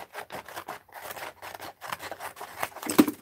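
Scissors trim the spine off a magazine for a journaling project, a run of close crisp snips and papery cuts in uneven rhythm, quiet and without speech.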